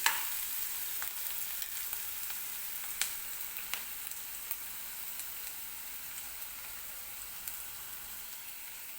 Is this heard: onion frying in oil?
yes